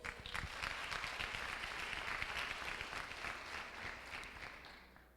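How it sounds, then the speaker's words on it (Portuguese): A church congregation applauds Brother Paulo at the pastor's call, a faint, even wash of many hands clapping that holds steady for about five seconds, then fades out. "uma salva de palmas para o irmão Paulo"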